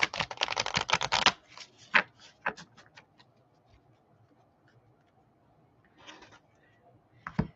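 Pictures for a party card game are shuffled by hand, a quick dense burst of flicking card-like rustles at close range, then a few scattered taps and a short second flurry, with faint talk in the room.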